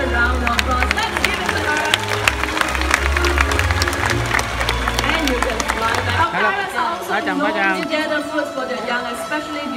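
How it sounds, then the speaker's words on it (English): Audience applause and cheering at a bird show at Jurong Bird Park, Singapore, after an eagle's flight: dense clapping and crowd chatter with a low hum, shifting to scattered claps and voices partway through. "Vega deserves a louder round of applause"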